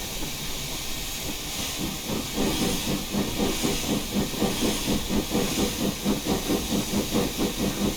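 Steady steam hiss from an LNWR Claughton Class 4-6-0 four-cylinder locomotive running with the throttle wide open in Train Simulator Classic, with a rapid rhythmic chuffing pulse rising underneath after about two seconds, loud and continuous without talk.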